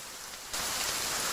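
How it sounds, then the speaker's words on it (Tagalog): Heavy rain pouring down during an all-day storm in a flooding village, a steady hiss of downpour that abruptly swells louder partway through and stays dense and close. "Buong araw ang ulan at palakas pa ng palakas ito."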